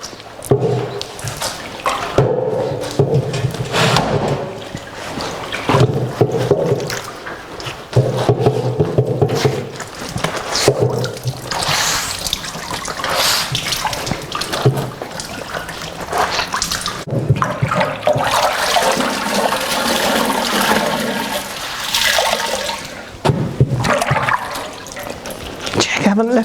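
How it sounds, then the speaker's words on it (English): Wet sheets are wrung out by hand into a dolly tub in a Victorian laundry, with water pouring and splashing in loud, surging gushes and drips that swell and ease repeatedly, close by. "Wring out these sheets."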